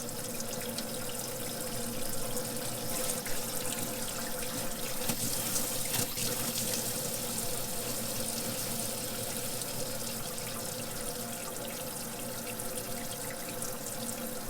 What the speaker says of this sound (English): Water pump's working.